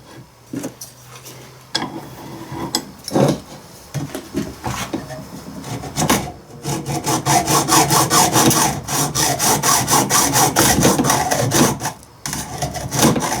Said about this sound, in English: This is a Princess Auto hacksaw.